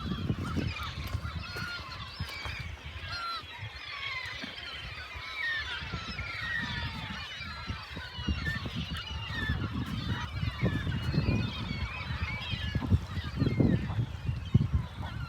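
Geese honk repeatedly in a busy, overlapping chorus over wind on Cape Cod, the calls continuous and fairly close, with low gusty rumble underneath and no talk.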